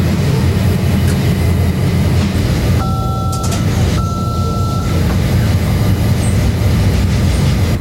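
A Bessemer & Lake Erie northbound freight train rushes past at close range in October 1990, a loud steady rumble of rolling cars with brief tonal squeals from the wheels partway through.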